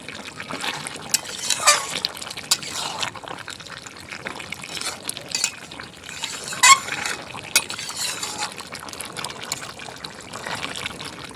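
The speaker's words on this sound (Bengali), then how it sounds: "মাংসের সঙ্গে টমেটো আর রসুনগুলোকে মিলিয়ে নেব।" Goat meat is stirred with chopped tomatoes and whole garlic cloves in a pot for a spicy curry, giving soft, intermittent wet squelches and scrapes that stay fairly faint.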